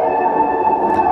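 Sustained Nexus synth tone run through a cutoff filter, a steady loud buzzy pad with a strong hum-like band and faint shifting upper harmonics, playing alone with no voices.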